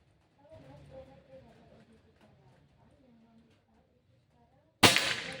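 Quiet talking fades, then one abrupt, loud shot from a PajeroGun Gen 5 air rifle cracks close by near the end.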